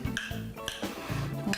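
Ingredients being stirred together in a dish with feta cheese and peppers, a utensil scraping and clinking against the bowl in a steady run of close, fairly quiet strokes.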